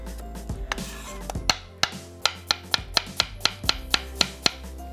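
A knife chops thinly through two small-to-medium onions on a board, a steady series of sharp, close knocks that speed into an even rhythm with no talking.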